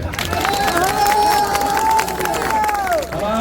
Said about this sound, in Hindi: अब आपने ताली बजाई